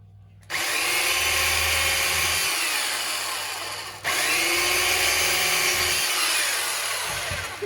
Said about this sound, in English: I'm going to drill 2 holes in each of these